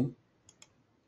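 Two faint, quick clicks of a computer mouse during 3D modelling work in Autodesk Fusion 360, spaced a moment apart after a brief burst of voice, against a quiet room.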